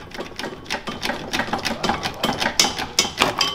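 A screw being worked out of the AC compressor on an Audi A3 8L, heard as a rapid, even train of mechanical clicks and ratcheting close by, with no talk over it.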